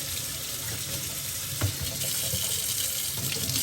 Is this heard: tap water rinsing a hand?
yes